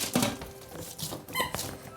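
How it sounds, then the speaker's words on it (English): A dog squeaks a big squeak toy in a home kitchen during cookie baking, giving a few sharp, close squeaks in quick succession over light background clatter. "A big squeak toy."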